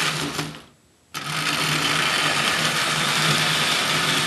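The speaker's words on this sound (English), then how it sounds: "Just a quick video showing you the engine running." A Lionel toy switch engine's electric motor whirs steadily, a buzzing, mechanical hum that dips briefly near the start, then cuts back in at full level and runs on evenly, close up with no talking.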